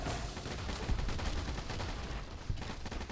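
Rapid gunfire from a weapon fitted with a realistic recoil mod in Fallout: New Vegas, a dense, continuous burst of shots with a couple of sharper cracks standing out, loud and close with no talking.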